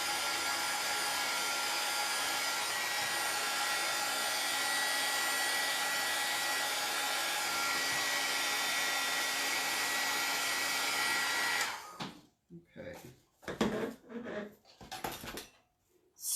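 Hair dryer blowing steadily on chalk paste for about eleven seconds, a loud continuous whoosh that cuts off abruptly, followed by faint shuffling and handling sounds.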